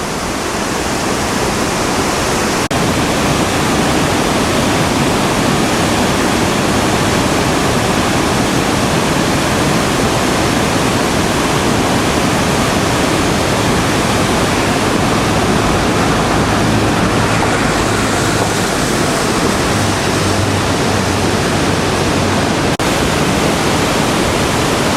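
A fast river rushes beside the town of Aguas Calientes, Peru, a loud, steady roar of churning water that holds unbroken from start to finish with no voices.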